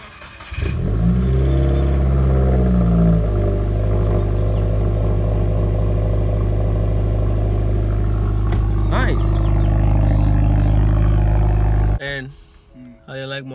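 A brand-new car fitted with a JHM Stage 3 clutch kit, RS4 pressure plate and lightweight flywheel, its engine roaring loud and steady at high revs for about eleven seconds before cutting off, with voices briefly heard.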